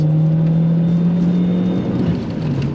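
A car engine pulls hard in second gear during a 0-60 acceleration run, a loud steady drone with a rising tone that holds strong throughout, heard from inside the car.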